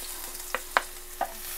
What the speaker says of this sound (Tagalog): magsusaute na tayo ng ating garlic